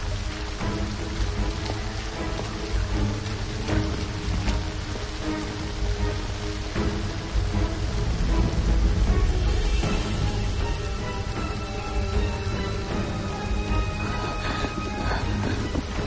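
Heavy rain pours steadily in a storm, a dense, loud hiss of drops on surfaces with a low windy rumble underneath, continuous throughout without speech.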